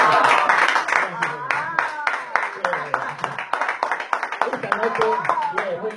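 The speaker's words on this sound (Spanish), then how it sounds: "Muy lindo, un aplauso." Audience clapping at a Carlos Gardel tango venue sounds in quick, crisp bursts, mixed with voices and a tonal musical line underneath, moderately loud and busy throughout.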